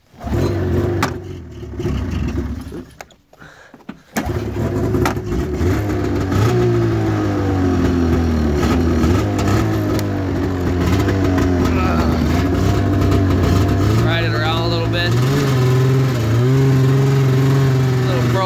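1991 Arctic Cat Prowler 440 snowmobile engine running close and loud, a buzzing two-stroke idle that rises and falls with throttle, the pitch wavering steadily throughout, with a brief sputter near the start.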